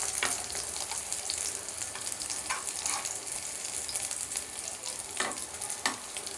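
Wheat chakralu snacks fry in hot oil, turned to cook on both sides, giving a steady close sizzle with occasional scrapes and taps as they are moved.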